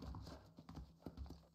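Horse hooves clip-clop in a quick, even rhythm for a brief moment, a war horse trotting in Red Dead Redemption, fairly close with no voices over it.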